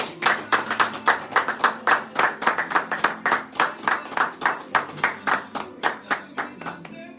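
A church congregation claps in steady, rhythmic unison during a special worship service, about twenty sharp, close claps filling the space with a faint murmur of voices beneath.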